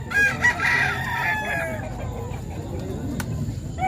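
A rooster crows loudly and close by, its call stretching over a second or two, followed by a murky stretch of low background noise.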